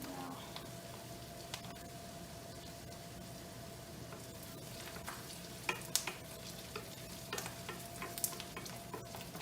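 Onions and garlic fry in a pan for risotto, giving a faint, steady sizzle with occasional stirring clicks and scrapes, a quiet voice speaking over it.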